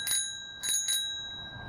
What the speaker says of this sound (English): Simple bell.